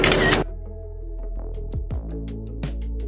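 An iPhone 17 camera shutter is fired with the Camera Control button, giving a brief noisy burst, then a few sharp clicks over a quiet tonal background.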